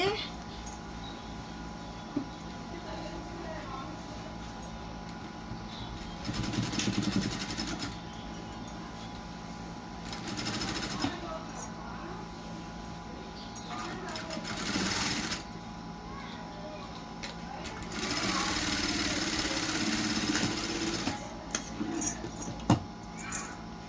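Sewing machine stitching a blouse piece from the inside, several bursts of fast mechanical whirring separated by quieter pauses, close up, with someone talking between and over the runs.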